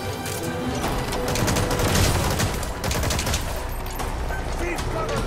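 Gunfire in Metal Gear Solid V: The Phantom Pain, sustained dense bursts of rapid shots and booms filling the whole stretch, loud and continuous with voices shouting over it.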